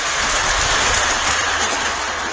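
Model railroad train pulling boxcars along the track, a loud, steady close-up rumbling roar of wheels and motor lasting a couple of seconds with no talking.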